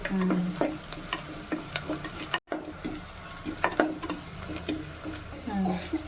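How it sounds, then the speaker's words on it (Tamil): Onions sautéing in a pan for a fish curry, a soft sizzle under frequent sharp clicks and scrapes of a spoon against the metal, with a brief cut in the middle and a voice heard faintly at moments. "நல்லா சுருள வதங்கினா இல்லை வெங்காயம் போட்டதெல்லாம் தெரியாது"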